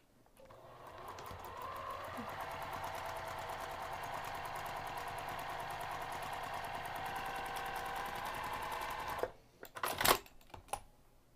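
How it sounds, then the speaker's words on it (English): A sewing machine stitches a lining seam with a 3/8-inch seam allowance. It runs at a steady, continuous hum for about nine seconds, then stops, followed by a few light handling clicks and rustles. "we're going to sew using 3/8 of an inch seam allowance"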